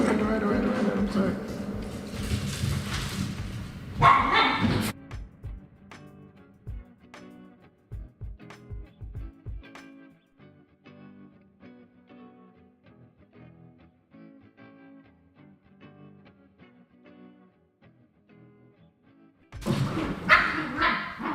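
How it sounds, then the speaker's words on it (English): Dog barking with heavy reverb applied, loud bursts at the start and again at the end with a quieter stretch of decaying echoes and faint plucked tones in between; a person talks over the opening. "that was the dog losing its mind on reverb"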